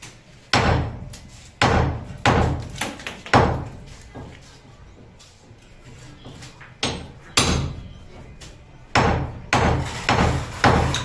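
A hammer striking repeatedly, in loud close blows that come in irregular clusters of two to four hits, with short pauses between them.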